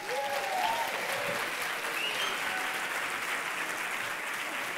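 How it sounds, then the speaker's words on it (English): Sustained crowd applause at an award ceremony, a steady dense wash of clapping at moderate distance lasting throughout, with faint voices mixed underneath. "could you please give a big round of applause to Trang,"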